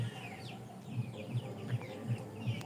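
Sonali chickens kept on a poultry farm give soft, low clucks at a steady pace, about every third of a second, faint against quiet background noise.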